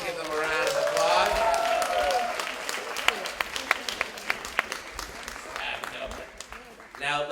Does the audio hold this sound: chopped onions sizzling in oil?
no